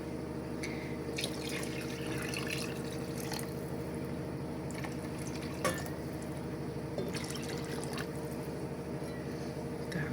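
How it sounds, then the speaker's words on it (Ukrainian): Tap water runs steadily into a saucepan while basmati pilaf is being cooked, making a continuous rushing, splashing fill with small drips and clinks on top. No one speaks over it. "зараз набираю водички і додаю сюди в каструльку"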